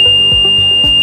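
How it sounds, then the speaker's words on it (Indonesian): A flame detector's buzzer sounds, a loud continuous high-pitched electronic tone held steadily and close up. "saklar ini yang terhubung ke buzzer ini akan menghidupkannya sebagai pemberi tanda"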